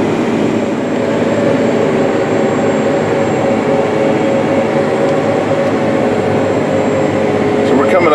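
A John Deere 9470RX tracked tractor drives through a field being worked deep, its loud steady engine drone and track rumble continuous and close throughout.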